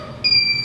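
A steady electronic beep from a brewing timer sounds near and clear, a continuous high tone starting abruptly and holding, set against faint background hum while brewing pumpkin ale.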